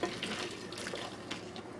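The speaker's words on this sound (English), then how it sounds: "Then we're going to pour our boiling hot water right over the top." Short, close splashy pour of boiling water into a bag inside a thermos, steady and gurgling, with no voices.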